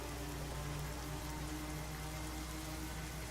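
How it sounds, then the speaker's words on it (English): Steady rain pours down in Fallout: New Vegas, driven by a weather mod: a continuous, even hiss of drops on surfaces with a low droning bed underneath, no voices. "it's raining"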